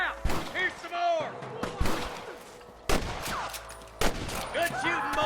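A Red Dead Redemption shootout erupts in rapid, overlapping gunshots, some near and loud and others farther off, with shouted voices from game characters mixed in throughout.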